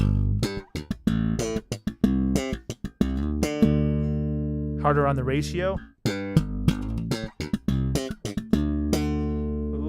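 Electric bass played through a Joyo Scylla compressor pedal, notes plucked in choppy bursts with the compression pushed harder toward a pumping response, while someone talks over the playing.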